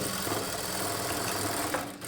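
A sewing machine runs a continuous fast stitch while sewing the back darts of a plain blouse, a close, even mechanical whir with no pause.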